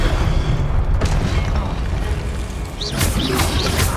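Hogwarts Legacy combat, a Confringo blasting spell going off amid rapid spellcasting: loud, dense booming bursts with crackling debris, a sustained rumble throughout and a sharp crash near one second, then further blasts toward the end.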